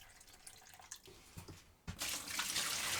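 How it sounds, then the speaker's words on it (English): Water pours into an allotment plant tray, starting as faint trickles and drips, then swelling into a steady, close rush of flowing water. "I'll be filling the tray up with water as well, so the plants can draw up exactly what they need from below."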